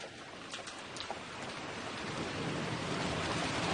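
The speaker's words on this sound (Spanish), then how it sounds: "A pesar de la lluvia, un año más, se ha cumplido con el ritual." Rain falls during the Good Friday Camino del Calvario procession in Cuenca, Spain, a dense, even hiss that swells slightly louder. A few faint taps sound near the start.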